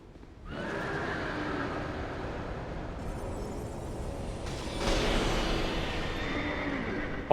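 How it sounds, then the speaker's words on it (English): A horse neighs in Dark Souls 2, a long strained whinny rising over a steady rumbling background, growing louder and harsher partway through with no speech over it. "Horse, horse, horse, horse."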